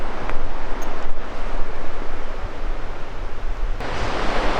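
Helmet Creek rushing out of the mountains below Helmet Falls, a steady broad roar of flowing water with some wind buffeting, close and continuous with no talk.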